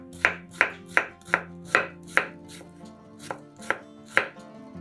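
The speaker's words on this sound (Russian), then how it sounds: "Нарезаем кубиками огурец." A knife chops a cucumber into cubes on a cutting board in about ten crisp, evenly spaced strokes, close up and with no voices.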